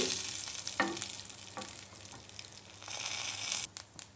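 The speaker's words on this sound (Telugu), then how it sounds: "ఆవాలు పసుపు కరివేపాకు వేసి త్వరగా వేపుకోండి" Mustard seeds, turmeric and curry leaves sizzle and crackle in hot oil, a steady frying hiss with a few sharp pops and stirring scrapes.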